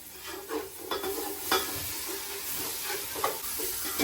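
Spices being stirred into sautéed shallots for Thalappakatti-style mutton biryani, a loud close sizzle with a few scraping stirs and no speech.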